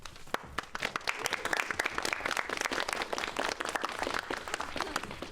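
Steady applause from a game audience greeting Audrey Hilton on stage, a dense continuous wash of many hands clapping at constant loudness with no talk over it.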